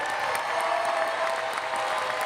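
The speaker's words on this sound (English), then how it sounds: "please make a round of applause and make some noise for Ohio's Mr." A crowd at a national jump rope championship applauds and cheers for an honoree, a steady, dense wash of clapping with scattered whoops that holds at an even level throughout without voices over it.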